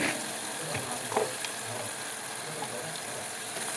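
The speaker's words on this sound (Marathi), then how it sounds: "हे टमाटर पालक हे चांगलं भाजून झालेलं आहे" Tomato and spinach paste frying in a pan, a soft steady sizzle with faint scraping stirs, low and even throughout with no one speaking.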